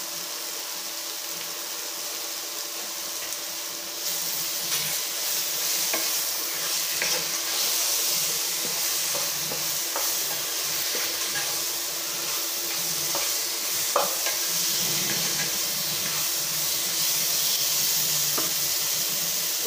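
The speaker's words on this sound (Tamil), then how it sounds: "கொஞ்சம் வதங்கட்டும்." Ingredients for a bottle gourd biryani sizzle and fry steadily in a hot pan, with occasional scraping stirs cutting through the constant hiss.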